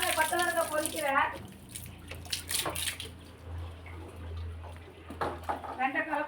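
Water from a drum splashes and pours in bursts onto banana plants in a garden, with gurgling and dripping between them; a voice talks at the start and end.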